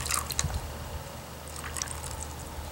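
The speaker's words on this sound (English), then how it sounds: "Alright, I'm gonna add more water." Water is poured onto absorbent polymer taken from diapers to make fake snow, giving a short splashy trickle and dripping burst at the start, then a quieter wet settling with another brief splash, close up and without talk.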